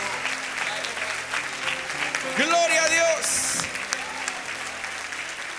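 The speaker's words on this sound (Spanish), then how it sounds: "levante ese aplauso bonito a nuestro Dios" Church congregation applauds to honour God during a Spanish-language worship service, a sustained wash of clapping from the crowd with a voice speaking briefly over it partway through.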